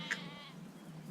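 A single sheep bleats faintly, one short wavering call over a low steady hum, ending in a brief sharp sound.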